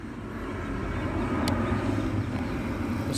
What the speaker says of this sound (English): I see the airplane actually coming our way.